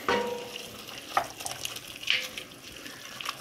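Garlic paste and fajita mix with chicken of the woods mushroom frying in a pan, a close, moderate sizzle with intermittent stirring scrapes and clicks.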